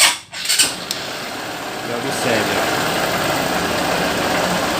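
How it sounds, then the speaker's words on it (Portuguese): A 2010 Honda NXR 150 Bros motorcycle engine starts up and settles into a steady idle, a continuous low rumble after a brief initial burst, with someone talking briefly near the start. "Então vou funcionar aqui a moto"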